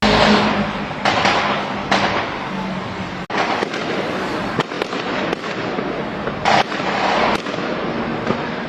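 Fireworks and gunshots at a wedding in Şanlıurfa, Turkey: a dense, continuous crackle of bursts and pops with sharper loud blasts standing out every second or so, close and sustained throughout.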